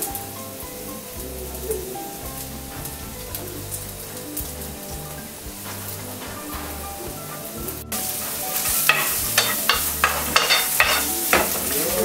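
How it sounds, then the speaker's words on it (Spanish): Garlic dropped into a pan of oil beside ingredients that are already browning, frying with a constant sizzle and busy stirring clatter. The sizzle grows sharper and louder in the latter part as the garlic hits the oil. "Ahora echamos el ajo."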